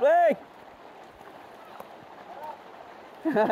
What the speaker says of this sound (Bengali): করা করা কড়া বৃষ্টি হচ্ছে, তুফানি বৃষ্টি